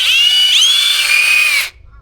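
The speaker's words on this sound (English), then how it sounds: "I have 3-inch screws now because I'm going to take my sides and drill it into the base." A DeWalt power drill drives a 3-inch screw through a wooden side into a base, giving one loud, steady whine that dips briefly and then cuts off sharply after about a second and a half.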